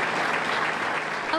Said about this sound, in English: Applause erupted for Officer Joshua Comitale on his way out of Albany Medical Center.